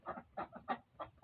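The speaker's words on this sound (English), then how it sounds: "I had to replace my chickens with my new chicks" Chickens cluck softly nearby in four or five short, quick bursts, faint and close with brief gaps between.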